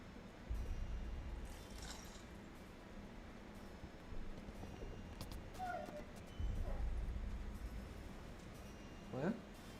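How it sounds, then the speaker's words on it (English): A pet dog whimpers softly at home after waking from a possible bad dream, with brief faint whines and a sharper yip near the end, over low background noise and occasional talk. "It's kind of whimpering a little bit."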